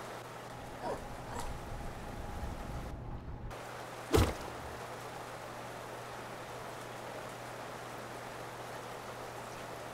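Steady rain in a video game hisses in a constant wash throughout, with a brief thump near the middle and a moment where the sound drops out, and no talk.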